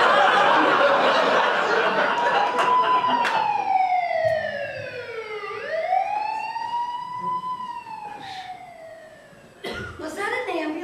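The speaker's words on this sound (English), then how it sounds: "Was that an ambulance?" A siren wails and sweeps up and down as it passes, loud at first then easing, with brief voices and a cough nearby.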